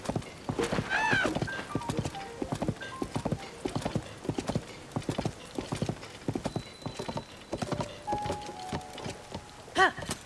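Rhythmic clip-clop of a white horse's hooves in The Legend of Zelda: Tears of the Kingdom throughout, with a loud whinny near the start and another near the end, over a light rain-like patter.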